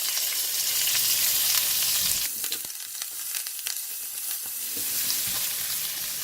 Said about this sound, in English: In the same oil, I'm putting all the spices. Ginger paste and garlic paste.